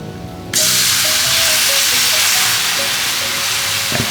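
A cooking mixture starts to sizzle suddenly and then keeps up a steady, loud frying hiss. Faint tones and light stirring sounds sit underneath, and nobody speaks.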